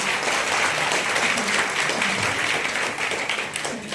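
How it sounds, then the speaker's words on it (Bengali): An audience in a hall in Arambagh applauds to welcome a Calcutta High Court judge at a legal awareness camp: loud, sustained clapping from many hands that fades slightly toward the end. "একটু জোরে কর হাত তালি দিয়ে ওনাকে স্বাগত জানাবো"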